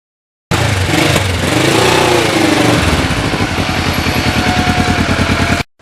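A Kawasaki Ninja motorcycle riding on wet roads gives a steady, loud engine drone with wind rush, its note settling into a rhythmic pulsing throb partway through and holding until it cuts off.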